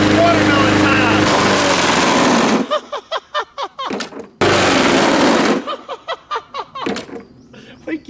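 A lawn mower engine drones loud and close, then cuts out as bursts of full-auto 458 SOCOM gunfire hit it, the engine roaring again briefly before more rapid shots.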